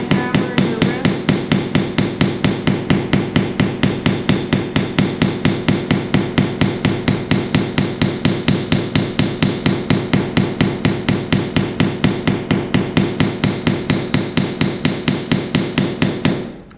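A long, steady run of quick wrist-driven hammer strikes on a sanded metal jewellery piece, sharp metallic taps repeating about five times a second, close up and without talk.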